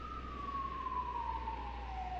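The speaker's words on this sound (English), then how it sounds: "you hear the sirens" One faint, distant siren wails over a low rumble, its tone slowly falling, on a misty, cold night outside a manor.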